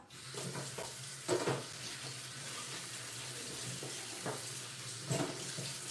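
A pot of blended vegetable soup bubbling on the stove, giving a steady watery seething with soft pops and a few louder splashy bursts, close by and continuous with no talking.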